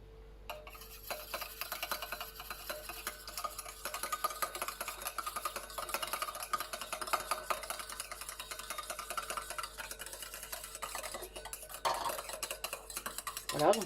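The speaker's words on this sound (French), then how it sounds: "on rajoute l'hydrolat dans l'huile et on bat" Steady whisking as floral hydrosol is beaten into oil to form a fluid emulsion for a men's face lotion: a continuous scraping, clinking stir against the bowl, fairly close and even, with a faint voice briefly in the background.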